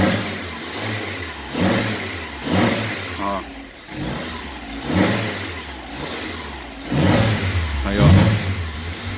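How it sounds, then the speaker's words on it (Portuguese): A Chevrolet Voyage 2015 engine runs and revs in repeated rising surges, close and fairly loud, with someone talking over it throughout. "O carro aqui tá funcionando"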